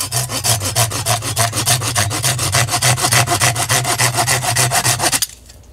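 Firewood for a wood stove being sawn into small cube-sized pieces: a fast, steady back-and-forth rasping saw stroke, close and loud, repeating for about five seconds before stopping abruptly.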